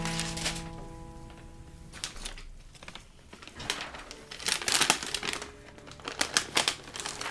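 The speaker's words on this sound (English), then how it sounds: "Y'all gonna have to hear the crumples on my chippy chip chips" A chip bag crinkles and crumples close to the mic while someone snacks, with irregular rustling bursts growing busier toward the end and no talking.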